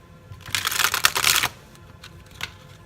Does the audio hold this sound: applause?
no